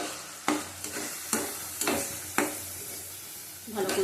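Kashmiri chilli powder, turmeric and whole tomatoes being stir-fried in a pan, with a sizzle throughout and a spatula scraping in four or five firm, evenly spaced strokes.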